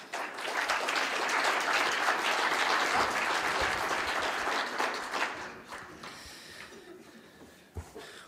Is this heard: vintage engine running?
no